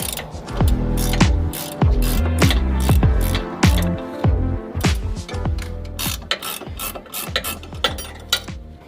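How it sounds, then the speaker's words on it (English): A wrench ratchets a 14mm nut on the front sway bar of a Mazda 3, a series of loud, close metallic clicking bursts repeating steadily with no talking. "it's a 14mm for this nut up here"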